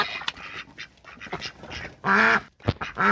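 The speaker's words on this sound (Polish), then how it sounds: "A to chyba jest kaczka saksońska." Saxony duck quacking on a breeding farm, a few close, loud harsh calls in quick bursts, the strongest call in the second half, with fainter bird noise between them and no talk.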